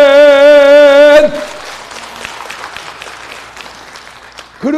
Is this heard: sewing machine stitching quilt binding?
no